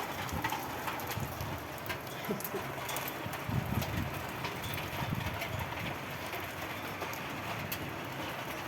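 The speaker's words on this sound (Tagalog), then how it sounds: "Malakas sa ulan, oh." Steady downpour hissing continuously, with occasional faint bird calls in the background and no talking.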